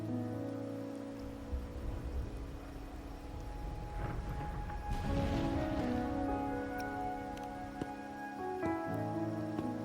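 Rain falls steadily in Raguna, a setting in the video game Wuthering Waves, as a soft, even patter that runs throughout beneath sustained musical tones.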